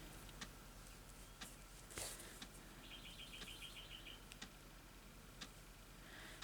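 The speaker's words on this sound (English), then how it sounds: "Birds are out there having a little song." Birds sing outdoors, heard faintly from inside a room with a heater running, with a short thin trill of repeated chirps and scattered ticking clicks over a steady low background hum.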